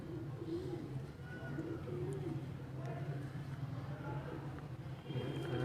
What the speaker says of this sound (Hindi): ये कसूरी नहीं है, बल्कि ये सियालकोटी, प्योरली सियालकोटी कबूतर है ये